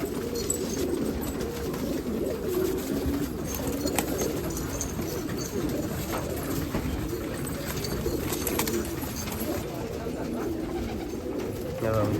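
Domestic flying pigeons in a long-kept loft on Subhash Road, Nashik, coo steadily and close by, a dense overlapping murmur of many birds that runs the whole time under occasional voices.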